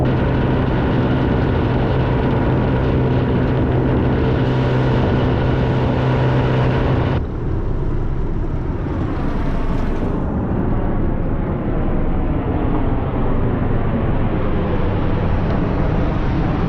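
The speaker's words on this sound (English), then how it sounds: "Those were a couple of Marine Corps Ospreys." Two Marine Corps Osprey tiltrotor aircraft fly over, a loud, dense rotor-and-engine roar that fills the scene, then drops at mid-pass into a softer, fading rumble as they move away, with no voices.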